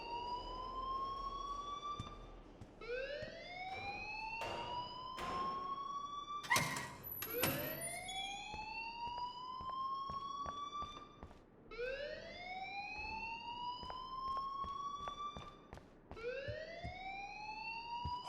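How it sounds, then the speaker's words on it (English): A fire alarm wails in the video game Life is Strange, rising sweeps repeating every few seconds at a steady middle distance, with clicks and a door-like thud in between and no talk. "please turn off that alarm since that's your job"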